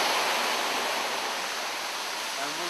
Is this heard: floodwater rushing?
yes